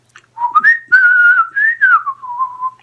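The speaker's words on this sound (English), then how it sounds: "Can you whistle?" A person from Burton-on-Trent, Staffordshire, whistles a short wavering tune, a clear close melodic line that rises and falls smoothly for about two and a half seconds, alone against silence.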